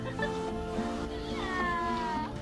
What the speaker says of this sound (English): But our cat Moon is suspicious of him